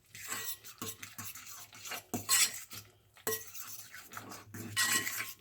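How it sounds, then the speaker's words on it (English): A utensil clinks and scrapes in a bowl while potato salad dressing with hard-boiled eggs and yolks is mixed, in close, uneven bursts of stirring separated by short pauses. "I am going to mix all this separately before it goes in here."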